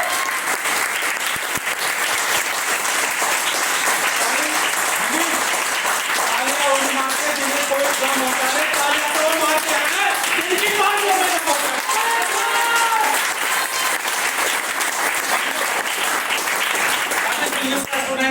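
Sustained, dense applause from an audience at a travel marketing company event fills the whole stretch, steady and loud, with a few voices calling out faintly underneath.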